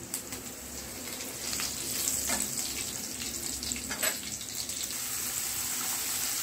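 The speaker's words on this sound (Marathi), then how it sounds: "लसूण छान परतून घेऊया।" Crushed garlic frying in a pan for a cluster beans dish, a steady close sizzle and crackle throughout, with light stirring scrapes and no talk.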